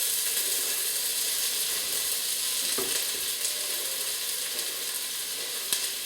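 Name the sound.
onion sizzling in a pan on the hob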